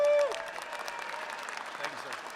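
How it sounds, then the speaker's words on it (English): Audience applause at a Second Amendment rally, a crowd clapping steadily and moderately loud after a brief tone at the start. "Give him a big hand of applause"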